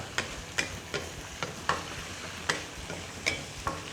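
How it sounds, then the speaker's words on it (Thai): Chili and garlic stir-fry in a hot pan for a Thai dish of soft crab claws with holy basil, a steady sizzle broken by about ten sharp scraping strokes of a spatula, close and clear with no talking. "เราใส่ พริกกระเทียมเราเลยครับ ผัดให้เขาหอมก่อนเลยครับ"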